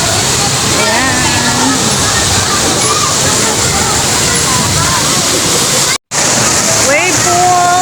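Water in a wave pool sloshes and churns continuously and loudly, with people talking over the wash of the waves.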